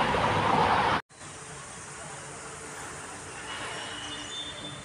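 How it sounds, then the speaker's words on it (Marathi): A train at Sangameshwar Road railway station in Konkan, heard close and loud as a rumbling roar with wheel noise, then a brief cut followed by quieter, steady rail rumble. "माझ्या मागे आहे ते संगमेश्वर रेल्वे स्टेशन आहे"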